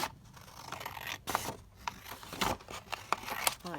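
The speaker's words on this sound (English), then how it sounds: "So I'm just going to cut down" Scissors snip through coffee-dyed paper in a series of short crisp cuts, close and fairly quiet, with rustling of the paper between snips.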